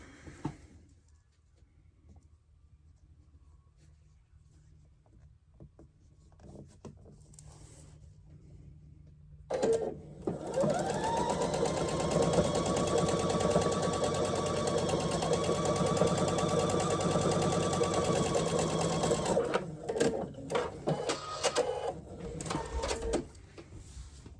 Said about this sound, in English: I sewed it upside down